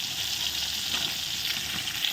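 Rui fish fillets frying in hot oil after being flipped, a steady close sizzle that runs unbroken with no talking.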